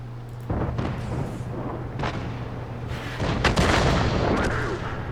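Tank cannon firing and striking its target in World of Tanks, a heavy boom followed by crashing impact noise and rumbling that swells louder over several seconds, with a steady low engine hum beneath.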